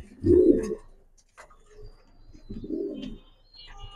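White Hungarian Budapest pigeons cooing close by, two soft throaty coos separated by a pause, with faint background noise and no talk.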